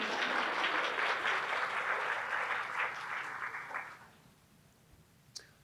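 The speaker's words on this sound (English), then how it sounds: "Yeah, you can clap." An audience applauds at a summer institute event, a dense sustained patter of clapping that tapers off and fades to near quiet, with a single sharp click at the end.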